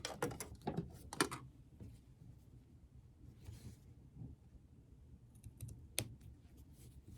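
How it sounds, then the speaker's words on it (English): Scissors snip into batik canvas fabric while sewing a jacket binding, a few sharp close clicks and cuts near the start, then a single crisp snip later, with quiet pauses between. "we're going to take our scissor and cut right into that spot"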